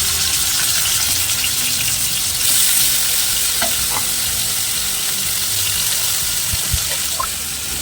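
Stuffed bitter gourd pieces fry in a little oil in a pan with a loud, continuous hissing sizzle. Small pops and crackles sound up close, and no one speaks.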